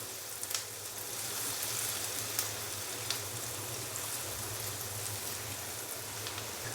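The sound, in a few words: chopped onion frying in butter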